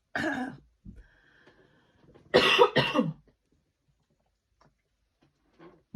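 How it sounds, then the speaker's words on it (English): A short coughing fit from one person indoors: a cough, a pause, then two harsh, loud coughs in quick succession, followed by faint rustling. "so sorry for my coughing fit"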